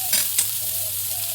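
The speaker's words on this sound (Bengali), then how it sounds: "কাঁচা লঙ্কা, একটু নাড়িয়ে দেবো।" Green chilies fry in a pan with a bright, loud sizzle as they are stirred, two quick scraping strokes near the start, then a continuous hiss, close up.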